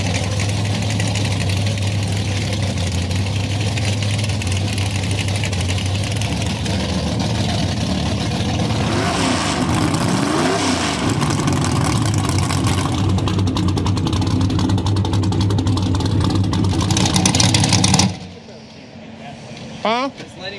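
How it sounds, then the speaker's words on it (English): A nitrous Fox Body Mustang and a nitrous red Camaro idle loudly at a street race, their engines rumbling low and steady with a brief rev midway, then cutting off near the end as voices talk under the noise. "I got a nitrous Fox Body Mustang, and I'm pretty sure it's a nitrous red Camaro also."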